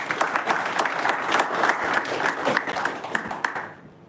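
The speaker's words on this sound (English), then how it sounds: "Can we have a huge round of applause for Toastmaster Mohit?" An audience at a Toastmasters club meeting applauds for a member, a loud, dense burst of clapping that holds steady for a few seconds before fading out.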